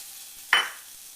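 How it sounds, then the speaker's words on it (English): Mushrooms, onion and garlic hit a hot, spray-oiled frying pan with a single short, bright sizzle that swells quickly and fades back into a quiet kitchen hush. "What I want to do is simmer fry this so that they get mostly translucent, mostly cooked,"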